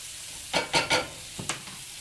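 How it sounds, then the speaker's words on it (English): Potatoes and onions sizzling in a pan being tossed, with three quick swooshing bursts of stirring and shuffling followed by a smaller toss over a steady soft frying hiss. "Pan juggling here."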